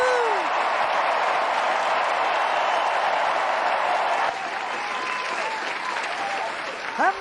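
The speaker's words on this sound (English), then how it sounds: "And the crowd went wild." A large convention crowd cheers and applauds after a presidential nomination acceptance speech, a loud sustained roar of clapping and whooping with scattered voices rising above it.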